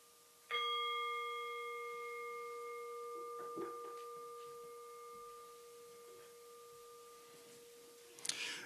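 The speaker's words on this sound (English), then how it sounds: "we'll begin our time together by ringing our chime" A meditation chime is struck once during a church fellowship service, its clear tone ringing out and slowly decaying for several seconds in a quiet room, followed by faint rustling.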